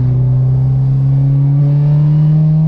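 A supercharged 2011 Honda Civic Si accelerates with a loud, steady engine drone carrying a sustained tonal whine that rises slightly as it pulls, heard from inside the car.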